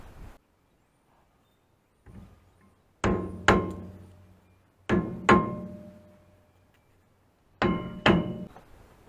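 A hammer strikes a stuck rear brake rotor on a 2500HD axle hub, in three pairs of heavy, resonant metallic blows spaced a couple of seconds apart, close and loud with ringing decays between.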